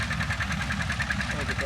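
An old John Deere 720 tractor engine runs steadily while baling hay, a low, even chugging with a regular pulsing beat that stays constant and fairly loud throughout.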